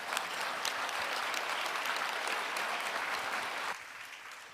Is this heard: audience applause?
yes